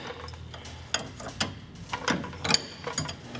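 A ratchet spins the upper ball joint nut off a Dodge Dakota, with quick, uneven runs of close metallic clicking over a few seconds and no talk.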